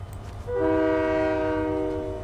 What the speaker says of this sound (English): Oh, that's a train.